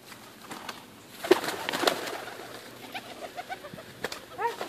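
White collar doves coo softly among feeders in a yard, with soft repeated calls and a brief flutter near the middle, mid-distance over quiet background.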